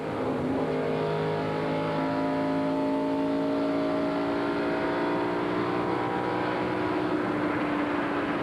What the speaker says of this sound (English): Ernie Irvin's going to hit the accelerator and try to run away from this field.